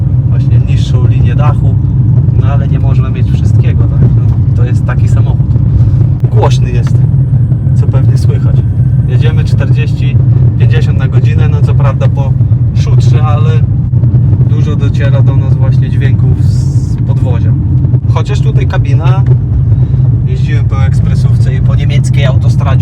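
An Opel Mokka 1.6 with 115 hp is driven on the road, filling the cabin with a constant loud low rumble of tyre and road noise. Someone talks throughout over the steady drone.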